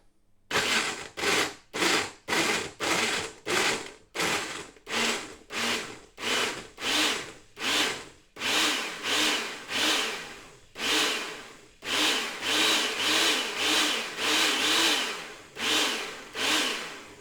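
A HOUSNAT blender roars in repeated short bursts, grinding and crunching frozen fruit, pulsing on and off in a steady rhythm.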